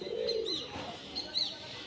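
Pigeons in a loft area, soft cooing with a couple of brief higher chirps, close and moderately loud, alone without talk.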